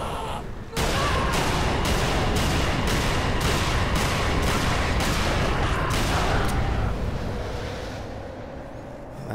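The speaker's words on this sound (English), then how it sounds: "That thug took a lot of shots." A steady run of loud gunshots from Dead Island, evenly spaced single reports repeating for several seconds at close range before fading into a dull ambient tail.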